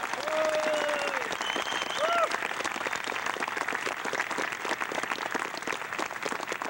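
Audience applause at a martial arts pressure-point seminar honoring a new grandmaster, steady sustained clapping from a room of people throughout, with a faint voice or whistle-like tones briefly audible early on.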